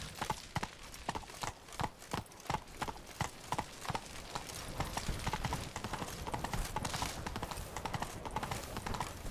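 A horse walks along a countryside path, its hooves clip-clopping in a steady rhythm, close and clear, with faint ambient noise around.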